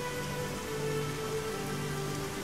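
Steady rain pattering on a surface in the video game Dig or Die, a constant dense hiss with no breaks and no voices, moderately loud throughout.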